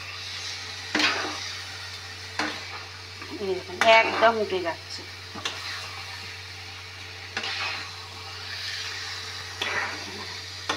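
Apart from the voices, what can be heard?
carrot halwa being fried and stirred in pan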